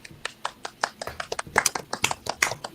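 Hosts of a wrestling awards show clap their hands in a quick, uneven run of sharp claps, close and fairly loud, with little talk over it.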